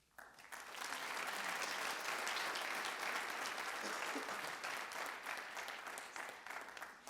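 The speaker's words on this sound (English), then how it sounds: "Can I have one last round of applause for these ladies?" An audience at a senior honors night applauds the honored senior students, dense sustained clapping that swells in quickly and holds steady for several seconds before easing slightly.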